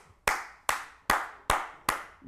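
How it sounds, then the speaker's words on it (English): Five slow, evenly spaced hand claps ring out one at a time, each sharp and close with a short decay, at a motivational leadership talk. "you need to applaud that man"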